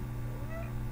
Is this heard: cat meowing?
yes